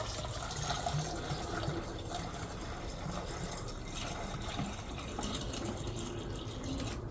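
Water is poured steadily into the coolant tank of a VW Polo Mk2 86c. It makes a continuous faint splashing, filling sound that lasts the whole time, with no voices.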